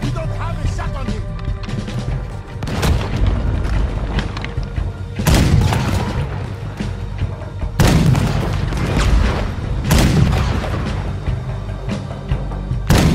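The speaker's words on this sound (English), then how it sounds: "there's another cannon on the head on our left" Heavy booms of cannon fire from a ship battle in Red Dead Redemption 2, several loud blasts spaced a few seconds apart over rumbling background action, with voices talking at times.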